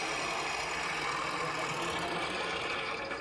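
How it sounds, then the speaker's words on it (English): A John Deere tractor engine idles steadily and loudly up close, a continuous low rumble with a dense mechanical chug throughout. "Turning a key started this tractor."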